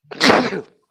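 A single sharp sneeze from a person during a sports podcast, one loud close burst lasting about half a second and then silence.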